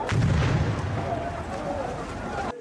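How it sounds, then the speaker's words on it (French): Two explosions go off at a political rally in the Democratic Republic of Congo: a loud, rumbling burst at the start that trails into a continuous roar of noise, with crowd voices mixed in. "à peine a-t-il achevé son discours que 2 explosions retentissent"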